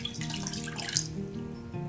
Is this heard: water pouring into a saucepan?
yes